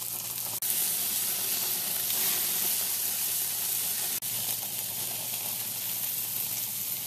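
Beef burger patties seasoned with Montreal steak spice sizzle over an open flame on a grill, a steady close-up hiss with two brief dropouts, no talking.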